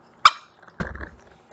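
A high-energy dog gives one sharp bark, then a rougher, lower woof-like grumble about half a second later, close and loud against quiet.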